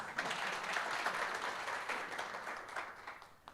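A conference audience gives a presenter a round of applause at a governance dialogue, a fairly faint, steady patter of clapping lasting a few seconds and tapering slightly at the end.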